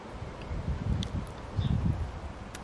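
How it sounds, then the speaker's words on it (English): Outdoor wind gusts buffet and rumble in swelling surges, with rustling leaves and a low, blustery roar throughout. "It's quite windy today, actually, isn't it?"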